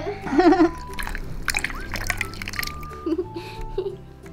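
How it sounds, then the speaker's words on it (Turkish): Water running from household taps in a children's play setting, a steady trickling and splashing flow with drips, mixed with playful tonal toy-like beeps and a voice speaking faintly in the background. "musluklar mı açık? Su sesi mi?"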